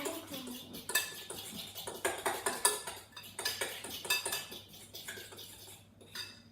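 A utensil scrapes and clinks steadily against a bowl while galette des rois batter is stirred, close and clear with brisk repeated strokes and no talk.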